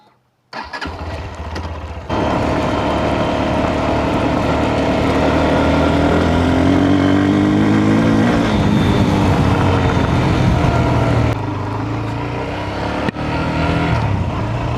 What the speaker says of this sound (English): we're riding my KPM 200. This is the first bike I ever got.